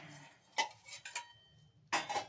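Washed utensils are handled in a home kitchen while potatoes are readied for cooking: a few sharp, close metallic clinks and clatters spaced apart, with no talking.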